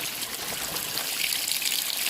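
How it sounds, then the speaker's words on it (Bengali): Water pours into a cooking pot in a soft, steady trickling stream, fairly quiet and close, with no voices. "জল দিলাম আর লবণ দিয়ে দিলাম এর মধ্যে।"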